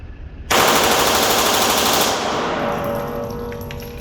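A select-fire Sa vz.61 Skorpion emptying a magazine on full auto outdoors, a loud, rapid continuous burst of gunfire lasting about a second and a half, then a long echoing decay across the range.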